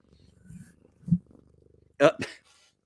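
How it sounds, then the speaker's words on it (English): A house cat purrs softly at close range in a quiet room, a low steady rumble running beneath brief bits of nearby talk. "Can you guys hear the cat?"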